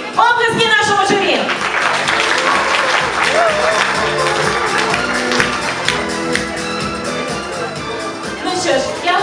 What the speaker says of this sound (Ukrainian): Оплески нашому журі!